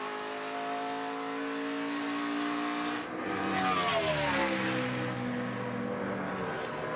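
A NASCAR race car on a qualifying lap for the 2017 Kobalt 400, its engine a loud sustained roar that rises steadily, dips briefly at an upshift, then climbs again as it passes close by.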